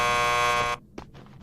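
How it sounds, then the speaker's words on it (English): A loud, harsh door buzzer in Max Payne 2 drones steadily for under a second before cutting off, followed by faint footsteps or shuffling. "Just press the buzzer by the door."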